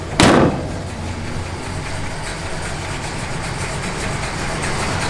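After a short loud burst, the V8 engine of a 1968 Plymouth GTX with an upgraded cam idles steadily with a low, slightly lumpy rumble, close by.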